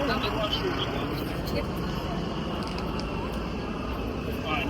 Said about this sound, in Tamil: அது ஃப்ளைட்